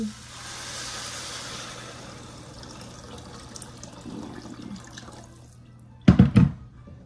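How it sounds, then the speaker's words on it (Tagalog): Water poured from a tap into a pot of mung beans, a steady faint running and splashing that carries for several seconds before a brief louder clatter near the end. "Lagyan na natin ng tubig."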